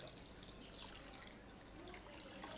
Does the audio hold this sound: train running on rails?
no